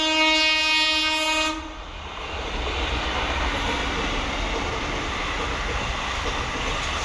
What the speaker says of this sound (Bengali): দেখো জাস্ট ট্রেনটার স্পিডটা দেখবে